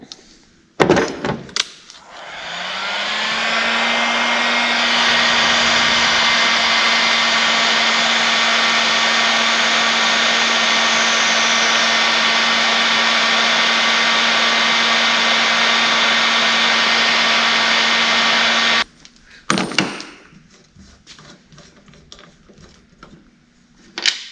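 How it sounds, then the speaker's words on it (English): A heat gun runs steadily for about seventeen seconds, shrinking heat-shrink tubing over wire connectors while a tankless RV water heater is installed in a 2005 American Eagle motorhome. A loud, even blowing hiss with a faint motor whine starts and stops with clicks and handling noises. "then we'll heat shrink them"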